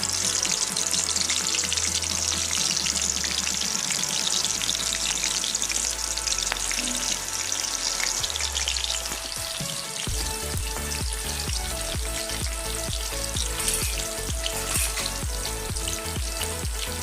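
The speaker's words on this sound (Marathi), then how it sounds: "हिरवी मिरची तळून घ्या." Green chilies frying in hot oil for a South Indian egg curry, a dense continuous crackling sizzle that turns into sharper, busier spattering halfway through, close and steady with no speech.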